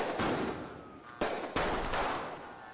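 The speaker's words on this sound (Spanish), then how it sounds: "empezáis a escuchar pero un atronador sonido de disparos que procede del exterior" Gunfire sound effect played during a tabletop role-playing game, heard as several sharp cracks and bursts of shots over a noisy, crackling background, fairly loud with no voices.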